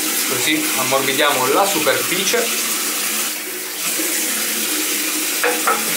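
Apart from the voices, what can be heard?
hot water running from a tap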